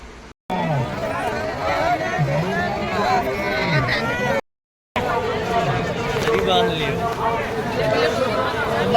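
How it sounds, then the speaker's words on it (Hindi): Dense crowd of pilgrims moving toward Sangam Ghat at the Mahakumbh in Prayagraj, a constant close babble of many voices and chatter with one nearby voice talking over it, broken by two short silent gaps. "सो इस टाइम पे क्या मैं आपको भीड़ दिखाती हूँ।"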